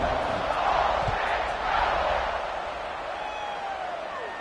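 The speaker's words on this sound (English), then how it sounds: "this crowd is buzzing after that last score" A football stadium crowd at a Florida versus Ole Miss game buzzes after a score, a loud, dense roar of many voices and cheers that swells early and then eases slightly, with scattered shouts and whistles rising over it.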